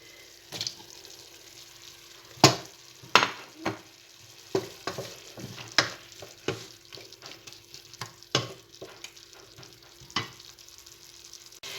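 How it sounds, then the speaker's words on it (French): Chicken casserole with tomatoes sizzles quietly in a pan while a utensil stirs it, making a steady run of sharp scraping clicks and knocks over a soft, constant frying hiss. "Je vais bien remuer. Et je vais rajouter les tomates. Et je vais laisser cuire pendant 3-4 minutes encore."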